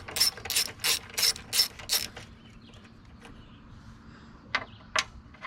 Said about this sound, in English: First thing we got to do is take this 8mm bolt out.